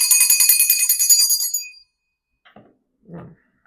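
A bright bell rings in quick repeated strikes for about a second and a half, then fades out, followed by a couple of soft bumps.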